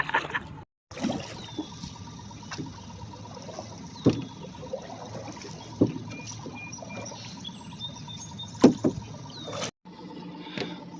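Canoe paddling on the Wisconsin River, with soft water trickles and occasional knocks of a paddle against the hull, fairly quiet and close over faint outdoor ambience.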